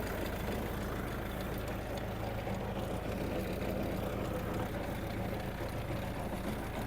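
A Scout 404 walk-behind tractor with a 1.4 m rotary tiller runs steadily in low gear at about 1400 rpm, working a field. Its loud, continuous engine drone holds throughout with no talk.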